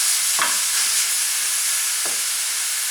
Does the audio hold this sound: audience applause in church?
no